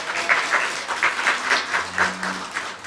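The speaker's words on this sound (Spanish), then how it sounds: "Un aplauso por estar acompañándonos acá en este día maravilloso." A small gathering applauds during a podcast recording at Casa Pucará, with a steady patter of hand claps that swells and dips for about three seconds at moderate volume and no voices.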